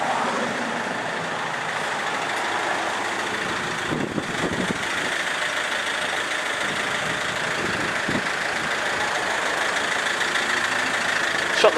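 A 2007 Fiat Ducato MultiJet diesel van idles steadily, a fairly quiet, even engine hum with a couple of faint knocks, heard alone without talk.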